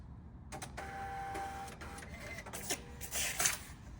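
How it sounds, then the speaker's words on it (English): A Hyosung retail ATM prints a receipt in a quiet room, a steady whirring feed with small clicks, ending in a brief louder burst as the paper is cut and pushed out. "The ATM will just spit out a receipt telling you if there's any bills or what's remaining."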